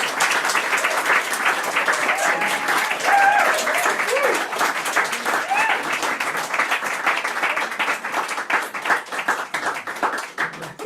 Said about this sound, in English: Sure, it's applause.